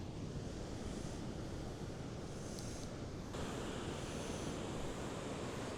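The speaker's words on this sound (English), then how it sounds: "It's a little windy" Steady wind and breaking ocean surf on a beach, a constant loud wash of noise with wind buffeting the microphone throughout and no voices.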